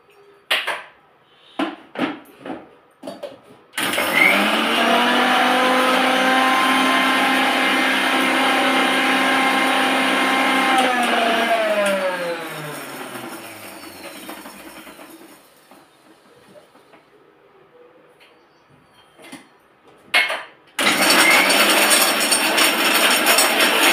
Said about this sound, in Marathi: आता हे छान मिक्सरला बारीक करून घेऊया